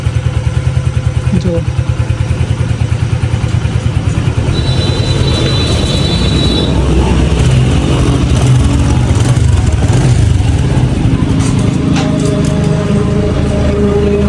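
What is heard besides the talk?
motorcycle engine running after engine rebuild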